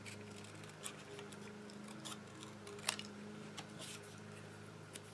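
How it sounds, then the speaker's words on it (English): Scissors make faint, irregular snips while trimming thin strips off a printed paper image for a clothespin craft, each cut a quiet crisp click over a soft hiss. "just cut little teeny strips off of it so that I don't cut too far"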